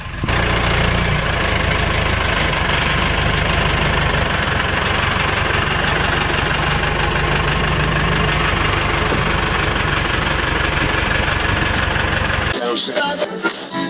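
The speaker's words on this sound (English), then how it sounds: "we got a tractor coming to pull this thing up." A tractor engine runs loud and steady at close range while pulling a Squarebody dually truck, a rough knocking idle droning without pause before cutting off abruptly near the end.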